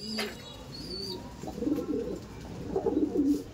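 Domestic pigeons, a female and a male, give soft repeated throaty coos close by, growing fuller in the second half over a quiet background.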